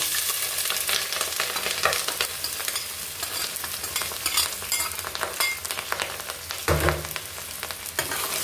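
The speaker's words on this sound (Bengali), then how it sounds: "তেলটা গরম হয়ে গিয়েছে, এবার আমি পেঁয়াজ কুচি দিয়ে দিচ্ছি।" Chopped onion fries in hot oil for a soybean dish, giving a loud, continuous crackling sizzle with stirring scrapes throughout and no voices.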